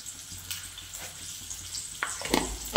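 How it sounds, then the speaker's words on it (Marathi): Dal, coriander and salt for a dosa chutney roast in a pan over a low gas flame, giving a soft, quiet sizzle broken by a few light scraping and stirring clicks near the end. "तर कमी गॅसवरती हे भाजून घ्यायचे।"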